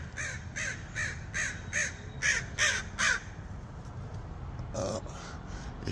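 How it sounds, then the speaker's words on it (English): Crows cawing outdoors, a rapid series of harsh repeated caws in a burst, then a pause and a couple more calls, fairly near over low background rumble. "that might be a member of my Crow Army following me around looking for some dinner"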